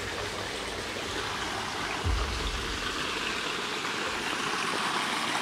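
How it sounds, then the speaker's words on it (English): A small waterfall beside a lake rushes in a steady, broadband wash of falling water, close and continuous, with a brief low thump partway through. "I can hear like a waterfall there"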